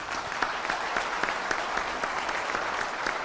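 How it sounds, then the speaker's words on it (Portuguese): An audience at an anti-corruption panel event in Brazil applauds with dense, steady clapping and a few sharper individual claps, sustained throughout without speech. "uma salva de palmas para esses guerreiros"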